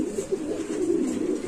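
A Lahori pigeon held in the hand coos softly in a low, rolling, continuous murmur, close and steady.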